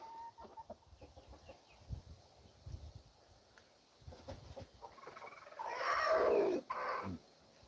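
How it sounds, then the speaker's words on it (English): Roosters crow and cluck at a homestead, with soft scattered clucking early on, then a loud, close crow around the middle followed by a shorter call, with no voices. "they're just making their typical rooster noises"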